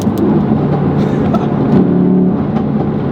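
A Ford Focus RS engine held at steady revs with a low droning hum and faint rising tonal whine, heard from inside the car with road noise underneath.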